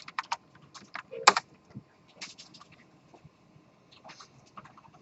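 Bursts of clicky keystrokes on a computer keyboard, a quick flurry at the start and scattered taps afterward, close and fairly clear against a quiet background with no talking.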